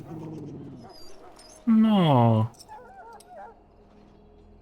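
A dog in the video game Dragon Age Origins gives one loud, drawn-out whimpering whine, with quiet voices talking before and after it.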